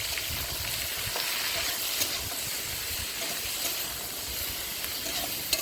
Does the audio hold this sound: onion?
yes